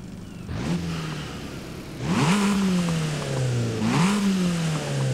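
A tuned Abarth 595 Esseesse engine in Forza Horizon 5 revs hard three times in a row, each rise in pitch followed by a gear drop, with a whooshing turbo edge.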